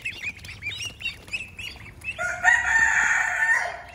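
Ducks in a poultry pen set above black soldier fly maggot beds feed on the larvae, giving a run of close, rapid quacks followed by a louder, drawn-out nasal call.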